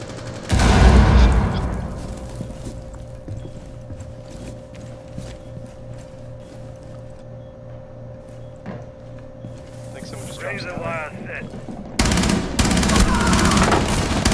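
Heavy gunfire in the video game Rainbow Six Siege on the Kafe map: loud bursts of rapid shots at the start and end, with quieter scattered shots, footsteps and a brief voice in between.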